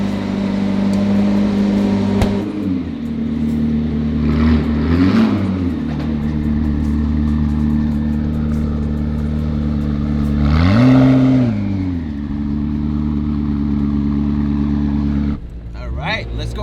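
A McLaren P1 hypercar rumbles at idle, revs up sharply a few times and then pulls away, its engine note rising and settling close by, with a voice talking briefly over it.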